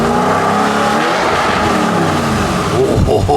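Audi RS7 with a full straight pipe exhaust revving hard, a loud, raspy engine roar filling the whole stretch close up, with voices faintly under it.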